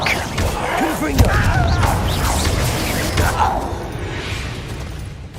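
Spell blasts from Confringo in Hogwarts Legacy, deep booming bursts and crashes mixed with game effects, with voices speaking throughout.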